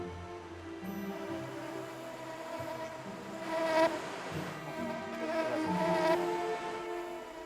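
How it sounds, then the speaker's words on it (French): A dense swarm of small flying insects, flies or gnats, drones on and on close by, several buzzes rising and falling over one another in a steady hum, with no one talking. "Je suis envahie de mouches, je respire les mouches."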